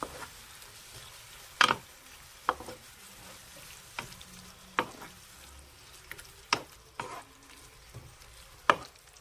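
Chopped, skinned tomatoes cook in a pan under a soft, steady sizzle, punctuated by about a dozen sharp clicks and scrapes of a spoon against the pan at irregular intervals; no talking.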